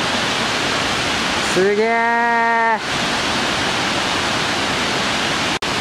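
Fukuroda Falls, a large tiered waterfall in Japan, roars as a loud, constant broadband rush heard up close, briefly joined by a man's short exclamation partway through.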